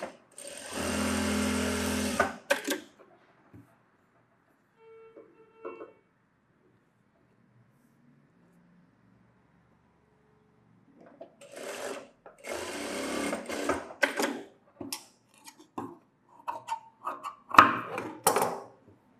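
A sewing machine stitches a lined blouse in short bursts: one loud run at the start, a long quiet pause, then several choppy stop-start stitching spurts near the end.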